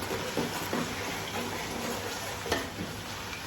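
A Nigerian tomato stew base fries in a pot with a continuous close sizzle and bubbling, with a few soft stirring knocks.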